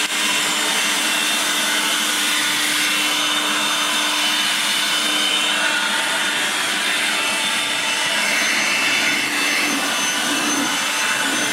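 A cordless air blower drying the engine bay of a C8 Corvette after a wash, producing a steady, loud, continuous broadband whoosh that holds without a break for the whole stretch.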